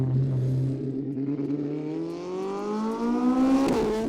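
A 540 kg Mono Cup lightweight race car accelerating hard in a straight line, its engine note climbing steadily in pitch through the gears, loud and close from onboard, with a brief shift blip near the end.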